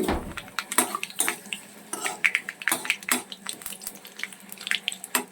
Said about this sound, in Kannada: ಸೊ ಸಾಸಿವೆ, ಕರಿಬೇವು ಮತ್ತು ಒಣಮೆಣಸು ಇದನ್ನು ಮೂರನ್ನು ಈಗ ಫ್ರೈ ಮಾಡ್ಕೊತಾ ಇದ್ದೀನಿ.